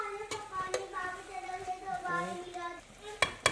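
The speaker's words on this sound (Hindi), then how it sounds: "तूरी मिक्स करेंगे" Ridge gourd (turai) being stirred in a pan, with scattered soft scraping and clinking of a spoon against the metal over a faint sizzle, plus a couple of sharper knocks near the end.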